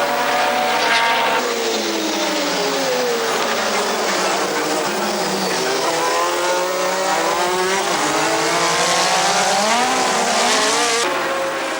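Formula 1 race cars scream past in a rainstorm during a late-1980s or early-1990s Grand Prix, with loud, continuous high-pitched engines rising and falling as they pass through wet spray.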